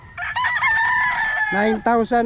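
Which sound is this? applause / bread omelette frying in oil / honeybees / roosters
roosters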